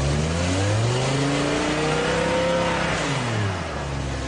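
A BMW M5 E60 engine revs hard as the throttle is pressed, a loud, close engine note that climbs in pitch, peaks, then drops away over a few seconds.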